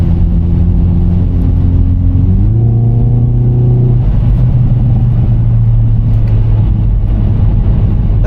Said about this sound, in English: But the sound in this car is incredible. The exhaust notes, it's just amazing.